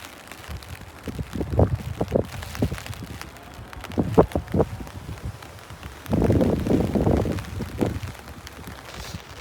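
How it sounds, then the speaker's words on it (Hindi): Strong wind blowing during rain at the Amman Citadel in Jordan, uneven gusts buffeting the microphone in rough bursts, the longest and heaviest near the end. "लेकिन जो हवा चल रही है ना, वो डर लग रहा है कहीं हमारी छतरियों को डैमेज ना कर दे"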